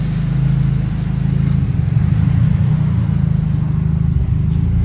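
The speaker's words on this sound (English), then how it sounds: "Get in, see if I can give it a couple of revs before I turn it off." A turbocharged Nissan Silvia S14 with Rocket Bunny bodywork revs hard in place, its loud, steady low engine drone swelling slightly as the throttle is blipped, heard close and alone.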